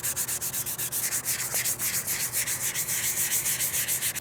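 A 3D printed mask sanded by hand with 320-grit sandpaper, a close, loud, rhythmic back-and-forth rasp with quick regular strokes.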